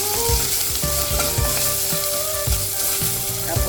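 Misua soup being mixed in a pot after oyster sauce and fish sauce go in, close sizzling with repeated scraping stirs at a steady rhythm and no talking.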